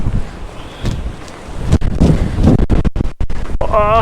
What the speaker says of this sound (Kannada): ಸಿಕ್ಕಾಪಟ್ಟೆ ಗಾಳಿ ಬೀಸ್ತಾ ಇದೆ.